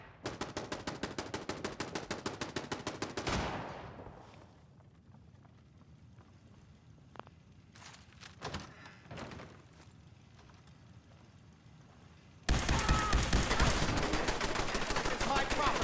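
Turret gunfire in Fallout 4 rattles out in loud, rapid, continuous bursts, stops for a stretch of quieter ambience with scattered thuds, then resumes abruptly at full strength.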